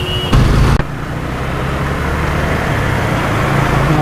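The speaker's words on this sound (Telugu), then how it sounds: "సో ఇట్లా ఉంది ట్రాఫిక్ కండిషన్." Jammed road traffic near JNTU with lorries stuck in the queue gives a constant low rumble of idling engines and passing vehicles, with a short horn-like blast near the start.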